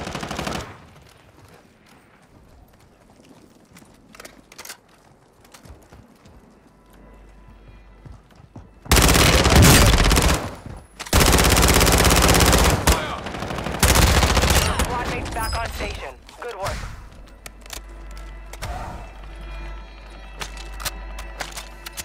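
Gunfire in a battle royale video game sounds in loud sustained bursts and rapid automatic volleys through the middle stretch, with quieter game ambience before and after.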